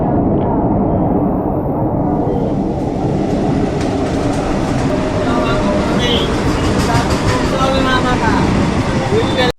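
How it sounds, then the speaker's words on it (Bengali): Crowded passenger train pulling into a station near Bardhaman in the evening, a loud continuous rumble and rattle of cars with people talking over it. "তখন যা ট্রেন এখন এলো"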